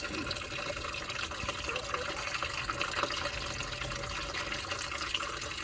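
Kerosene drains out of a 2012 Ford Taurus SHO engine in a steady, loud, continuous gushing pour that runs without a break throughout.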